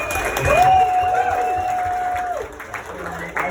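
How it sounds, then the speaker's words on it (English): A comedy club audience answers a question to couples with a short round of applause and some cheering, a crowd swell under a lingering tonal whine that fades after a few seconds. "Just by a round of applause, who's here as a couple tonight?"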